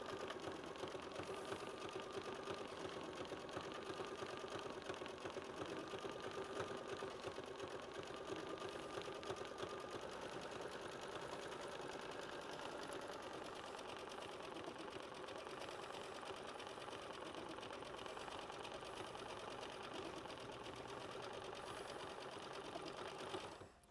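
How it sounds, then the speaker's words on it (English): Embroidery sewing machine stitching a sampler block, a steady mechanical buzzing hum with rapid needle ticking, continuous and even throughout, alone with no voices. "And this is machine stitch step 33."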